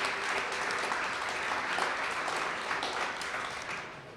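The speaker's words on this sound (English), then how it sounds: "So with a quick round of applause." Audience at a river-revival volunteer kickoff event giving a steady round of applause, dense continuous clapping that holds evenly for several seconds before easing slightly at the end.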